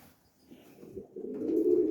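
Pigeons, including white homing pigeons, coo softly in a loft, starting faint and swelling into a steadier, louder low cooing over two seconds with no voices.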